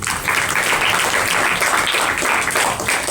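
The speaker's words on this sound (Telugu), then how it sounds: "ఒకసారి క్లాప్స్ కొట్టండి ఆయనకి" An audience claps for Gandhi, a dense, sustained round of applause from many hands that holds steady for about three seconds.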